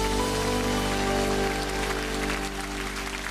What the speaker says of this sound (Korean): 우리 하나님께 영광의 박수 올려드리기 원합니다.